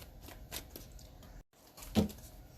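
Tarot cards being handled and drawn, with soft papery slides and flicks spread across the moment, a short silent gap, then one sharper card snap, quiet and close with no talking.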